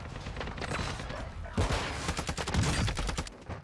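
Rapid automatic bursts from the ISO Hemlock rifle in Warzone 2, loud and close, firing in quick repeated strings across the whole stretch with a brief pause before the heaviest volley.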